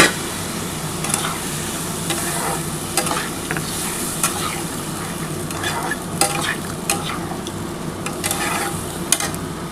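Fish curry masala for katla fish with potatoes is stirred in a pan after a splash of water, giving a continuous soft sizzle with repeated scraping strokes of the spoon, fairly close and without talk.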